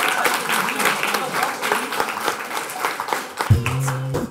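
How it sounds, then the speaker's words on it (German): Crowd applause at a freestyle rap battle as a rapper is introduced, sustained clapping throughout with voices mixed in, and a beat or tonal sound entering near the end. "einen großen Applaus"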